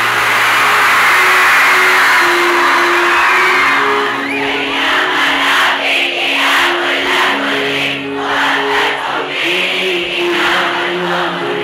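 A huge concert crowd in Damascus sings along, its massed voices loud and continuous and close to overwhelming. Cheers swell and sustained tonal singing runs through the whole stretch.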